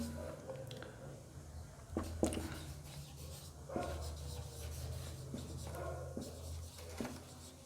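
Pen writing answer points on paper, a steady close scratching with a few sharper taps and strokes, quiet and continuous without speech.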